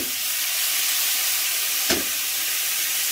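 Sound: tomato frying in garlic oil in wok

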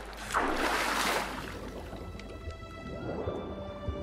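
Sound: swimming in water in video game The Witcher 3

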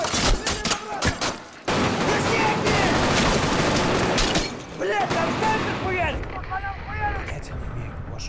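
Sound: gunfire in Escape From Tarkov, a video game

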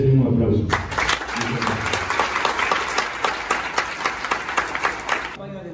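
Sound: university audience applause

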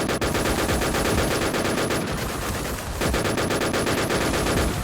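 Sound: gunfire in video game Warz Alicez

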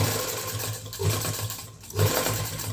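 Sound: sewing machine stitching a zipper onto a coat

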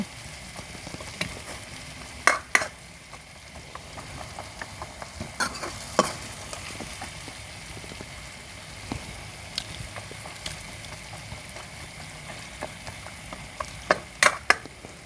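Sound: coconut simmering in a pan until the oil separates

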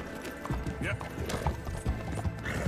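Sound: horse galloping in a video game, likely Red Dead Redemption

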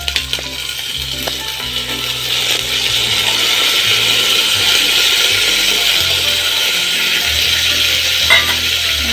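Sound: chana dal added to frying onions and stirred

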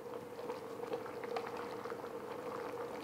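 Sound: brown gravy with cornstarch boiling in a pot

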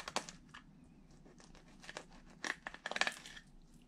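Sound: knife cutting through crappie fish pin bones

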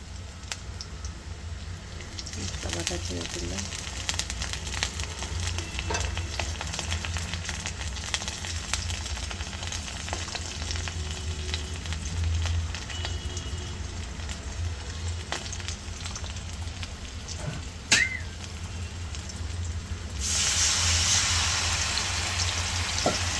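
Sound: frying with ground spice pastes in pan

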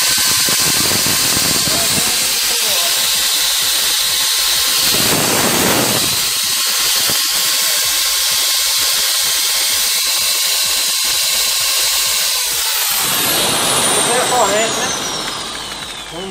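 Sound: electric drill running on a 3000W pure sine wave inverter

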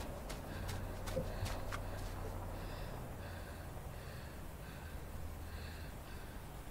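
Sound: boy panting in the video game INSIDE

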